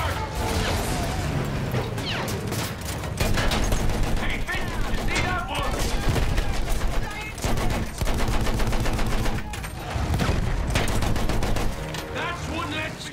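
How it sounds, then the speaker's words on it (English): Sustained machine gun fire rattles in Battlefield 1, dense rapid bursts layered with crashes and mechanical clatter, loud and continuous across the whole stretch with brief dips between volleys. "Machine guns, tear them apart!"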